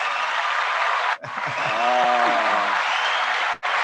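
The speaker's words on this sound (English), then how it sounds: "And then a round of applause because we're live" Steady applause from a crowd fills the clip, with a brief voice rising over the clapping midway before it continues to the end.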